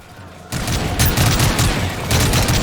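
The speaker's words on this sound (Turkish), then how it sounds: "Makinalı bayağı vuruyor yani." Sustained machine gun fire from the video game Call of Duty Modern Warfare 3 bursts in loud and dense, a continuous rattling fusillade with pulsing rounds that carries to the end.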